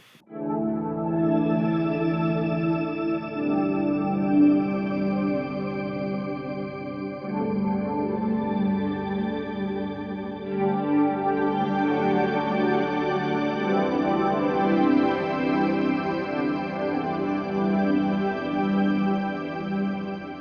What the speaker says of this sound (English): It's like a big droning pad.